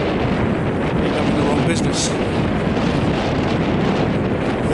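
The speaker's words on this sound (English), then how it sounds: "The weather is windy and it's dry" Strong wind blows outdoors across the microphone as a loud, steady roaring rumble that persists throughout while someone speaks briefly over it.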